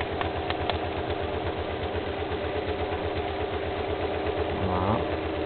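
A stepper motor salvaged from an old scanner runs continuously with a steady, buzzing mechanical hum and rapid regular pulsing, close and unchanging throughout, with a brief tonal sweep near the end.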